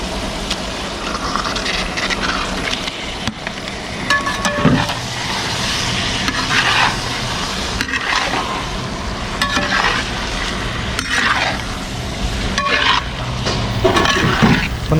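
Chicken cooks in a thick gravy for a triple-layer biryani, sizzling and frying steadily while a utensil scrapes and stirs through the pan at intervals, close and clear with no talking.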